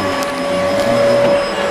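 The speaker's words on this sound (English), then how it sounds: "He even put the cord up over his little vacuum." A small vacuum cleaner runs steadily and loudly in a home, a constant motor whine with a strong steady tone and no pauses, alone without talk.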